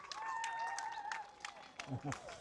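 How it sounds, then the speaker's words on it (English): Spectators clapping and cheering at an ICF canoe sprint finals finish, applause scattered and fairly distant beneath a commentator talking over it. "Big round of applause"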